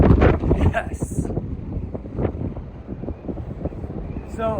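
Gusty wind buffets the microphone at the summit of Pikes Peak, a loud, steady rumble with short bursts, while a person talks over it.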